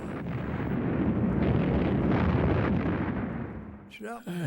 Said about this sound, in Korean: 매일 밤낮으로 시도 때도 없이 주위에 포탄이 떨어졌습니다.